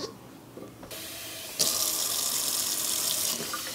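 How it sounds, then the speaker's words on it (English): A kitchen tap runs lukewarm water for a batch of sourdough, starting faint and then gushing strongly and steadily close by before easing off near the end. "4 cups of lukewarm water"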